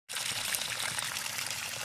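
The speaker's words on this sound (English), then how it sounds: "Well, we've made a waterfall." Water pours as a small waterfall over rocks into a tub, a close, loud, continuous splashing rush that starts abruptly and holds steady.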